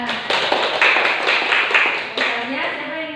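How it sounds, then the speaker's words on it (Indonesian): Elementary third-grade classroom where children clap together in quick, uneven bursts for a few seconds, loud and close, with a teacher's voice mixed in. "Tepuk tangan dulu ya."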